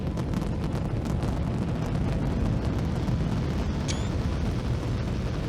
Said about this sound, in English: Alright, so the rocket automatically launches.